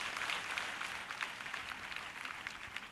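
Church congregation clapping loudly in praise during a Telugu prayer service, a steady dense patter of many hands sustained throughout at moderate level.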